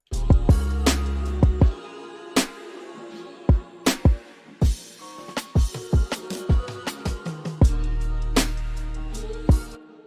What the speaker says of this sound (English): I actually know of a particular drum loop that I have that ends with a nice fill